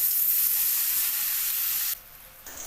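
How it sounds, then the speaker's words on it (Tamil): Cauliflower pieces frying in a shallow layer of hot oil, a steady bright sizzle that stays loud and close, then briefly drops away before rising again, with no voices. "எண்ணெய் காஞ்சிருச்சு. காலிஃப்ளவரை போட்டுக்கலாம்."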